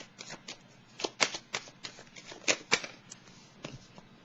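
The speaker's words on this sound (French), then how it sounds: "Ici, je vais piger une autre carte." Tarot cards handled and drawn from the deck, with a series of crisp, close papery flicks and riffles in irregular bursts, a few louder snaps among softer shuffling.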